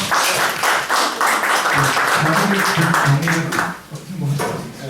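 An audience at a Korean philosophy society's memorial gathering applauds the speakers, with a sustained round of clapping that fades near the end, heard under a voice talking.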